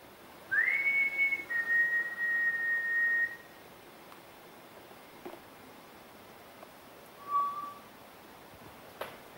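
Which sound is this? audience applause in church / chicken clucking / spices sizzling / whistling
whistling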